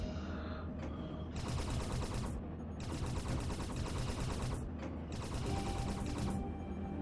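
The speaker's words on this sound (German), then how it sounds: "Und unsere Punktverteidigung muss es kaputt ballern." Point defense guns in the space game Space Haven fire at attacking aliens in long rapid bursts, a dense mechanical rattle that cuts off and restarts several times, loud and close with no talking.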